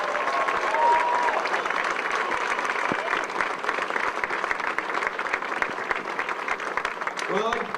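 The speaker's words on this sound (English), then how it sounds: "I'd like everyone to give Rob a St. Patrick's Day Cottleville round of applause for his service." A crowd at a St. Patrick's Day charity run applauds a departing fire chief for his service, sustained dense clapping throughout with some voices and cheers mixed in.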